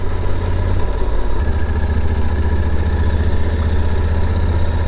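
Motorcycle engine rumbling nearby while riding on a road in Baltimore County, a steady loud low drone throughout with no talk.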